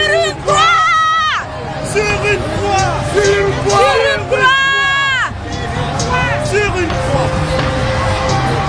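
A crowd in a French radio drama angrily shouts together, loud and close, with layered raised voices calling out in bursts over a busy babble.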